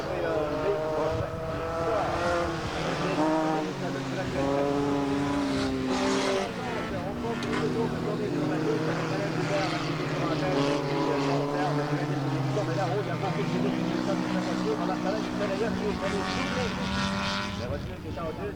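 Race cars lapping the Rive Sud autodrome in summer 1991, a continuous, wavering engine roar from several cars at moderate distance, heard under ongoing commentary throughout.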